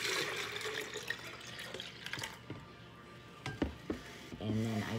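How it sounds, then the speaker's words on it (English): Cold tap water runs into a container of sweetened tea in a home kitchen, a faint, uneven splashing stream with soft clinks and a brief voice near the end. "And then I fill the rest of it up with cold water."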